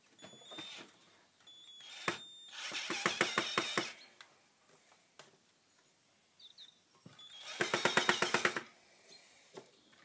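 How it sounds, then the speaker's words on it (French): A screwdriver works a seized screw on a compressor motor, giving two bursts of rapid metallic clicking and ratcheting with scattered small scrapes and knocks in between, close up and fairly quiet. "J'essaie de visser la vis pour dégripper."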